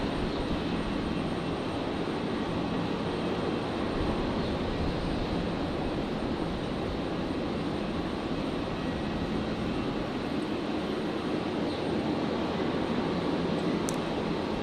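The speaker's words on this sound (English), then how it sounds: "Virgin 1282, just about to depart. It's just backtracked." A Virgin Australia jet, flight 1282, sits ready to depart at Brisbane airport after backtracking the runway. Its engines give a steady, distant broadband roar that holds for the whole stretch.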